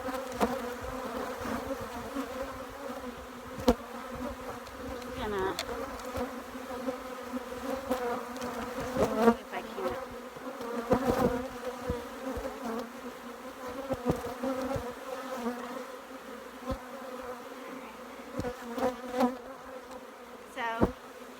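Honey bees hum and buzz around their hives in a naturally managed apiary, a continuous droning swarm close by with occasional sharper fly-bys and faint background sounds.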